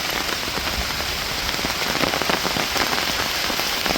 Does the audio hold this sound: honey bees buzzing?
no